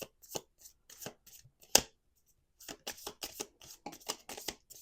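Oracle card deck being shuffled by hand, soft papery riffles and taps in short bursts with a pause midway, quiet and close, no voices.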